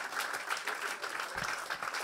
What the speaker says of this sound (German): Dieser Applaus nochmal für Tane!